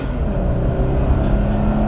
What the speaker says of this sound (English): we'll give it a little bit of gas now